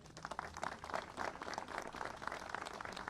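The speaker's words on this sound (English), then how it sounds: "Please give her a warm round of applause." Applause from a crowd at a mayor's summer safety press conference, a steady patter of many hands clapping at moderate distance, continuing throughout without speech.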